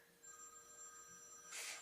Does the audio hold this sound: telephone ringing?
yes